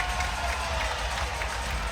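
A hockey crowd in Peterborough roars after a go-ahead breakaway goal, a steady, dense wash of cheering and clapping filling the arena without pause.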